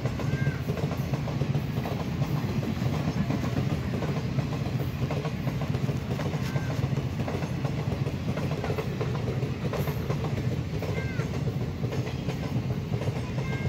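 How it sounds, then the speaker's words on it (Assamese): A train rumbles past at close range in a steady, continuous roar with rhythmic wheel clatter on the rails, loud throughout with no talk. "এইফালে ট্ৰেন আহিছে বোলে ট্ৰেন চাবলৈ মাতিছে"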